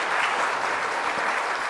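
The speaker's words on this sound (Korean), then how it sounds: "박수 한번 쳐주세요." A church congregation at a Sunday worship service bursts into applause, a short dense spell of many hands clapping together.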